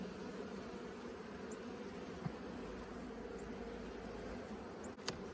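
Honey bees stirred up around an opened hive in late November in south Alabama, a faint, steady insect hum with a few passing buzzes and a couple of soft clicks, no talking.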